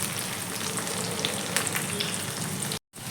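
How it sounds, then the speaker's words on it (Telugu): Green chillies fry in oil for snake gourd rice, a continuous crackling sizzle with scattered pops, close and even, briefly cutting out just before the end, with no talking. "ఇలా మిర్చి వేసుకుంటూ వేపేసుకుందాం అనేది బాగా వేగిపోవాలన్నమాట"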